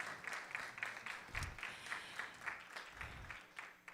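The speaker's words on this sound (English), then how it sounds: "Please give yourselves a round of applause." Graduates at a high school commencement applauding, a moderate crowd of clapping hands with some sharper individual claps standing out, heard at a distance in a large space.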